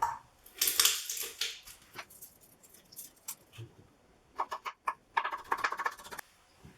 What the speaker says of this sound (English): So just going to again just chop these up nice and fine